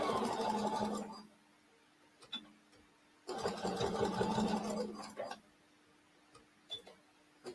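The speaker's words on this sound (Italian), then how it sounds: "Cucitura a piedino anche in questo caso." A domestic sewing machine stitches the bottoms of a small fabric bag with a presser foot, running in two steady bursts of whirring stitches separated by pauses and a few clicks, close and clear, with talk in between.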